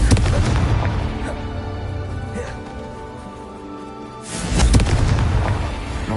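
A Confringo explosion spell in Hogwarts Legacy: a loud, sustained booming blast with rumbling low end that fades over a few seconds, then a second heavy burst erupts near the end.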